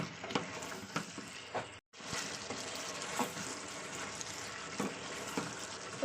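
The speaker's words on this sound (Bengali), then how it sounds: "তো 3 থেকে 4 মিনিট আমি কষিয়ে নেবো তেলের সঙ্গে এটা।" Tomato cooking down in hot oil for chicken karahi, a steady sizzling fry with occasional stirring scrapes, briefly cut to silence near two seconds, close and continuous with no talk.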